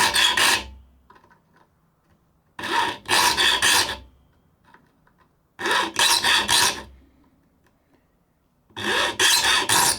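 A file sharpening the teeth of a new handsaw, heard as four separate rasping strokes, each about a second long, with short quiet gaps between them. No one speaks.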